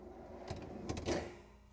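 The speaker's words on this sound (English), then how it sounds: "And I'm going to pull out this drawer." A Frigidaire refrigerator drawer pulled out, giving a short sliding rumble with a few clicks and knocks, fairly close but quiet, lasting about a second with no talking.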